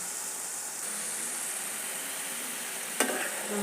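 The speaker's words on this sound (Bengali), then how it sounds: "ভালো করে নেড়ে দেবো" Chopped potatoes fry with spices in a pan, giving a steady, even hiss of sizzling oil with one sharp scrape of stirring near the end.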